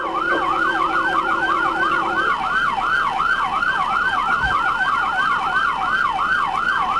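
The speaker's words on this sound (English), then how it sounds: "Why don't you walk around and turn off some freaking sirens instead of standing around?" An emergency vehicle siren wails loud and close, its rapid rising-and-falling yelp repeating without pause. A steady low tone runs beneath it for the first couple of seconds, and no one speaks.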